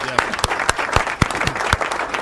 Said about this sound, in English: Let's definitely clap it up on that.